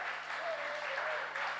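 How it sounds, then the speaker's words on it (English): An audience at a press conference claps for a guest in a steady wash of applause, dense and fairly close throughout the short stretch. "big round of applause for Sushant Sriram"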